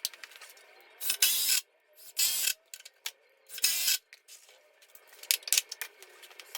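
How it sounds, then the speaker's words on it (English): Clamps are cranked and adjusted on wood blocks on a workbench, giving several close bursts of ratcheting and rasping between lighter clicks and knocks. "I'm really kind of having to finagle with the clamps to pull these blocks"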